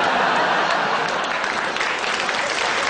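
Steady, dense applause from a comedy show audience, loud and continuous throughout with no break, a uniform wash of many hands clapping together.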